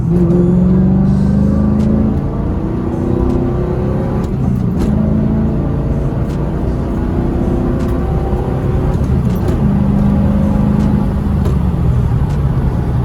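A 2000 Trans Am's LS1 engine roars loudly as it accelerates hard from 40 to 90 on a highway, pitch climbing through gear changes with steady road and wind rumble underneath.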